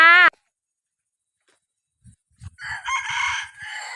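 A rooster crows briefly at the very start, the call cut short after a fraction of a second; a pause of near silence follows, then people can be heard talking and moving about.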